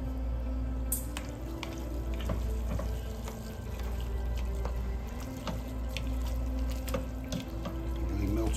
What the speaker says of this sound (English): You add your meat in and then simmer another 2 to 3 minutes.